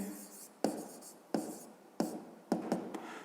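A pen or pencil writes the answer to a fifth-grade math exercise by hand, with soft scratching strokes broken by four or five sharp taps as it meets the paper. The sound is close and quiet, and no one speaks.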